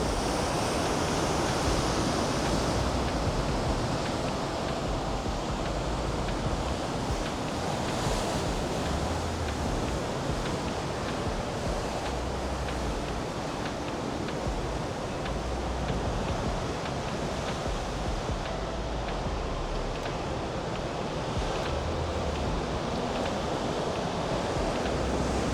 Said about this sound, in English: The size of the waves coming in here.